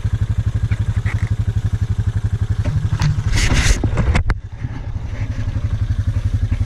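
A motorcycle engine idles steadily up close outdoors near a lake, a loud rapid throbbing putter with a brief clatter and dip partway through before settling back into its even beat.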